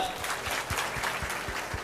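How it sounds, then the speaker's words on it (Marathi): Audience at a stage talk or kirtan event claps for the female host in a steady, rhythmic burst of applause that carries on throughout, with faint voices underneath. "एकदा जोरदार टाळ्या सूत्रसंचलन करणाऱ्या ताईंसाठी आपण द्याव्यात"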